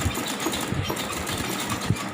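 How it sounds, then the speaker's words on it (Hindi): A sewing machine runs a 2 mm stitch along a shirt's stand collar, a steady close mechanical hum with faint rhythmic clatter throughout. "फिर से मैं 2 mm सिलाई शुरू करूँगा"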